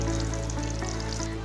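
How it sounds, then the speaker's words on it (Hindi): Mutton wadiyan fry in hot oil, giving a steady close sizzle with fine crackling throughout. "उसमें अब मैं वड़ियाँ फ्राई कर रही हूँ।"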